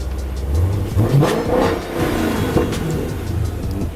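A Dodge Challenger Scat Pack engine revs up and down several times, loud and close, with a rising whine on each push of the throttle.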